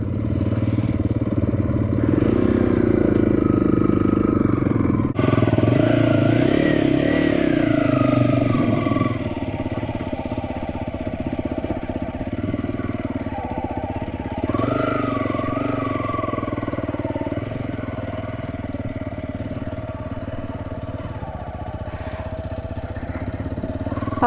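Motorcycle engines on an adventure trip idle and rumble unevenly at camp, a steady rough drone with some clatter and slight revving, fairly loud and close with no talking over it.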